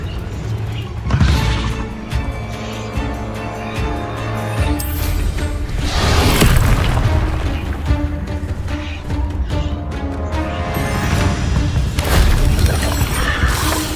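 Confringo fire-blast spell in the video game Hogwarts Legacy, with repeated loud crashing, shattering bursts and booms over a dense, continuous din, the biggest hits landing near the start, midway and toward the end.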